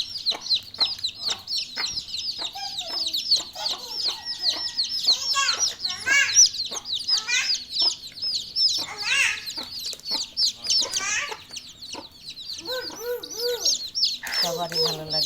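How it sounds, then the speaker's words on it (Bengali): Newly hatched chicks of a desi hen cheep close by in a dense, nonstop chorus of high peeps, with occasional lower clucks from the mother hen throughout. "এই হলো মা মুরগিটা, আর এই হলো এদের বাচ্চা।"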